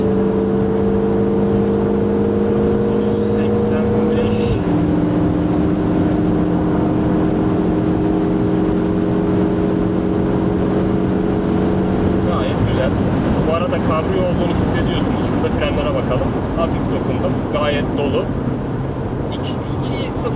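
A MINI John Cooper Works engine pulls hard under load as it accelerates, its steady droning tone dropping at each of two crisp gear shifts, with wind rush throughout and someone talking over it.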